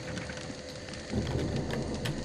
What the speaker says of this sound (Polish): Pada deszcz, ja bym się przespał do rana.